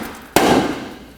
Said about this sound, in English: I'm going to use a hammer this down